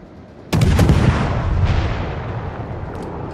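Naval guns on a British cruiser in World of Warships fire in a loud close burst, several overlapping deep booms that roll off into a long rumbling tail with a faint later crack; no one speaks.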